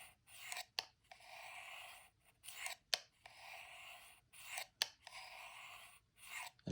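A knife blade drawn in repeated strokes across a fine ceramic sharpener, each pass a rough, rasping scrape broken by short gaps and light clicks, close up and steady with no voices.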